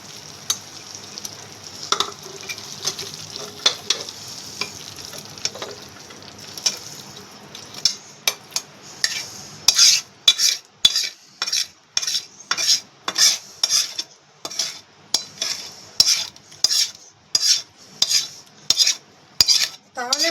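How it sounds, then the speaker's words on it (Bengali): A spoon scoops cooked mutton from a pan into a pressure cooker: a soft sizzle at first, then a regular run of sharp metallic clinks and scrapes against the vessel, close and distinct, with no talking. "আমি প্রেসার কুকারে মাংসটা নিয়ে নিচ্ছি।"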